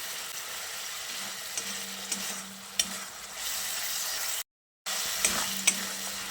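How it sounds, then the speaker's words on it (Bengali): Tomatoes cook down in a pan with beans while being stirred, producing a constant quiet sizzle broken by occasional spatula scrapes and a brief silent gap. "টমেটোটা যতক্ষণ না গলে না যাচ্ছে সে পর্যন্ত টমেটোটাকে এভাবে কষিয়ে নিতে হবে।"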